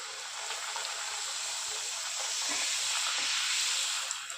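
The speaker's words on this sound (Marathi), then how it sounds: "आता दुसरी पुरी आपण तळून घेऊया" Puri deep-frying in hot oil, a steady broad hiss of bubbling oil that holds throughout and swells slightly toward the end, close and alone with no talk.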